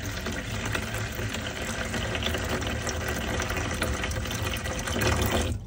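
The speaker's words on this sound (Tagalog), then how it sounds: "Now, sa malinis na palanggan, halagyan natin yung 1 cup of water" Warm water pours steadily into a clean plastic basin, a continuous close splashing rush that runs unbroken for several seconds before cutting off abruptly at the end.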